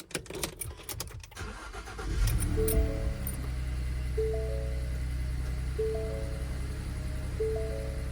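A camper van's engine starts after a light jingle of keys, cranking briefly and then settling into a steady low idle while a row of electronic dashboard chimes beeps over it.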